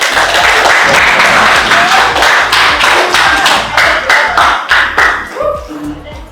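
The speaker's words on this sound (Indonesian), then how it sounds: "Oke, beri tepuk tangan dulu dong." A classroom group gives applause for the first presenting team, a dense burst of hand clapping that fills most of the clip and thins out toward the end, with voices mixed in.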